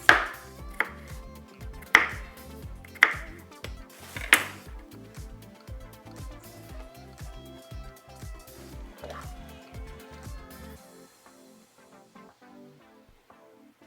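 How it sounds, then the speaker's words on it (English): A knife chops potato on a cutting board, close and sharp, with a steady run of knocks and heavier strokes about once a second that stops a few seconds before the end. "I also have some potato. So I'm gonna cut that up and put some in the dish as well."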